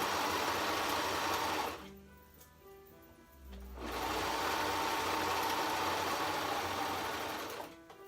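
A home sewing machine stitches fabric while a trendy off-shoulder top is sewn, a steady close whirring run that pauses for about two seconds midway, then resumes loudly and continues until near the end.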